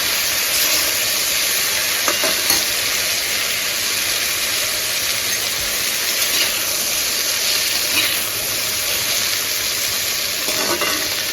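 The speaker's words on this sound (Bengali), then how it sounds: "আর হলুদ। ভালো করে মিক্স করতে হবে।" Turmeric, salt and spices are stirred in a cooking pot, with a loud, continuous sizzle and hiss and occasional scraping knocks of the spoon against the pot throughout.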